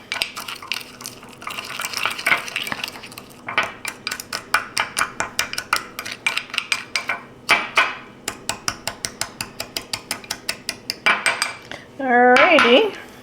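Cinnamon is stirred into ingredients in a bowl, a close, rapid and steady run of utensil clinks and scrapes against the bowl that continues throughout, ending with a brief spoken phrase.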